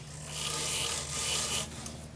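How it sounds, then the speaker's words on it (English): Hand sanding a natural edge bottle brush wood bowl with 1200 grit wet/dry sandpaper, two close, sustained rasping rubs with a short pause between. "I break it down with 1200 grit wet dry sandpaper"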